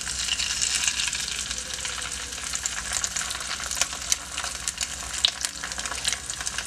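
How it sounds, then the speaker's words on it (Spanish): An egg fries in a covered pan while breakfast with sausages is made, giving a steady, dense crackling sizzle with tiny pops throughout, close and fairly loud, no voices. "con mucho cuidado vamos a colocar nuestro huevo"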